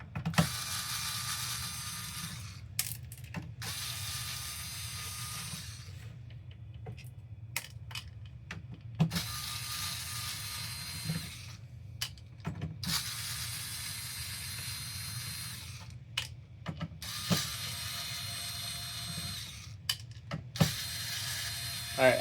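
Screws are backed out of a PS5 console in repeated bursts of close, rapid ratcheting clicks from a screwdriver, separated by short quiet pauses and occasional sharp taps.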